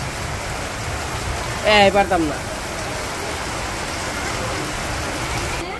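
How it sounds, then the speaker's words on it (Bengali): Steady rain falls outdoors, a continuous even hiss running through the whole stretch, while a voice speaks briefly over it near the start. "বৃষ্টিও নামছে"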